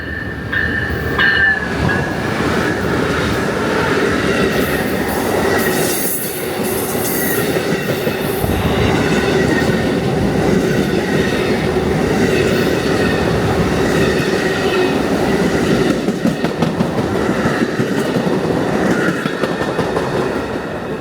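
The northbound Amtrak Silver Star passenger train, hauled by ALC-42 locomotives, rolls steadily past close by in Ashland, Virginia, with rumbling wheels, rhythmic clickety-clack over the rail joints and occasional squealing, loud throughout.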